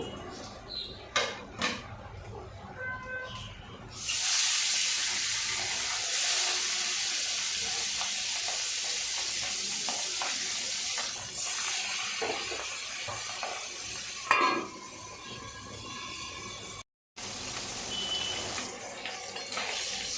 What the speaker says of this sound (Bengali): এই যে মাছ ভাজা আছে আমি সব মাছগুলো এইভাবে ভেজে নেব